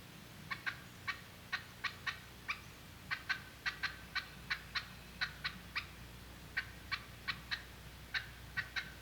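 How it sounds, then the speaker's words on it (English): A wild turkey hen gives spring mating calls of cackling and cutting, a long, fairly regular series of sharp clucks over a low steady background hum. "Cackling and cutting are known as the true spring mating calls of the hen."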